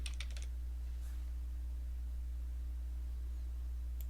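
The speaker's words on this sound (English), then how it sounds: "let's type in our data" A short burst of keystrokes on a computer keyboard at the start, followed by a single faint click later, over a steady low electrical hum.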